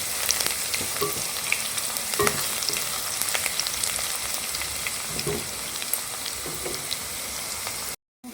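Onions fry to brown in a pan in a home kitchen, a loud continuous sizzle with scattered pops and stirring taps close by. It cuts off abruptly near the end, and no one speaks.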